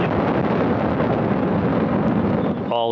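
A rocket lifts off from Baikonur carrying the 65th Progress resupply vehicle, a loud, continuous broadband roar with heavy low-end rumble and wind-like buffeting, holding steady for a few seconds before a brief tonal blip at the end.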